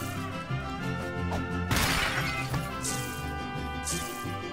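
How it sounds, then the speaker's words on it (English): Glass breaking in the South Park: The Fractured But Whole video game, one sharp shattering crash over steady game music, followed by a couple of fainter tinkling bursts. "He's breaking the glass."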